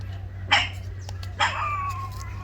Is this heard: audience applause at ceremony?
no